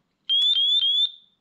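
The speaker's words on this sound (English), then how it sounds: "There we go, we hear the beep." Beeping from an RC receiver binding to a RadioMaster TX12 radio: one clear, loud electronic tone of about three quarters of a second with slight pulsing, heard alone and then fading away.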